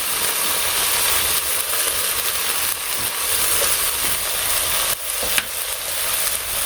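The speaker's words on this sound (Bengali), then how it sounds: "বেশ ভালো করে একটু কষিয়ে নিই।" Spices with salt, turmeric and chili powder sizzle steadily in a hot pan, a loud continuous frying hiss with small stirring clicks near the end and no talk.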